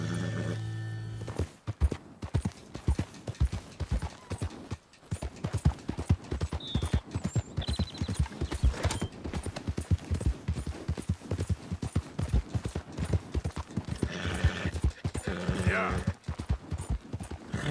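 A white Arabian horse gallops at full pelt in Red Dead Redemption 2, its hoofbeats a steady rapid drumming close up and loud throughout, with a brief whinny and game voices talking over it.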